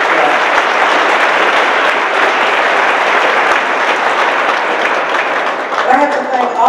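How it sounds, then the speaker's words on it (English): Sustained, loud applause from a lecture audience, dense clapping filling the whole stretch with a slight swell near the end and some voices mixed in. "Give Peralta another applause."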